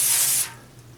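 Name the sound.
cooking spray sprayed onto a baking pan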